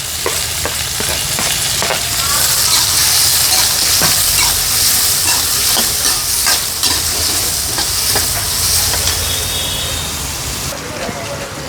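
Ginger, curry leaves, green chili and onion frying in coconut oil give a loud, steady sizzle, broken by frequent sharp scrapes and clicks from stirring, continuous and close.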